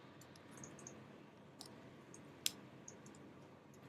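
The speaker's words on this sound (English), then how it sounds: "Now I'll save the file and click the play button." A computer mouse clicks once on a play button in flow-automation software, a sharp, faint, single click among a few lighter ticks over a quiet room hiss.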